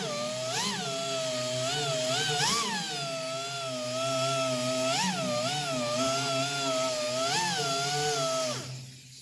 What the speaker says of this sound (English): DA or a DA, dual action sander.